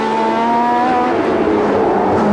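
A year-old 1975 Ferrari Formula One car races past, its high engine note sustained and then shifting downward as it passes, loud and close on the circuit at the 1976 United States Grand Prix West.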